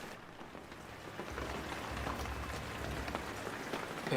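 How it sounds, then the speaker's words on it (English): Rain falls in the Shenmue III video game as a steady, dense hiss of drops that swells a little after the first second and stays even throughout, with no talking. "It is raining"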